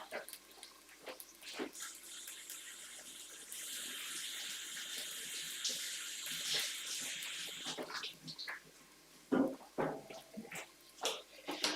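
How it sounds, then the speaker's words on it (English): Celery is rinsed under a running kitchen tap, with a steady stream of water splashing for several seconds, followed by a few short handling knocks and drips nearby. "So I'm just going to give that a tiny bit of a wash."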